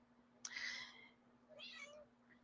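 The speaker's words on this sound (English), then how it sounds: "A cat has come to visit me." A visiting cat meows nearby indoors, two distinct meows with a pause between them, the second softer and lower, over a faint steady hum.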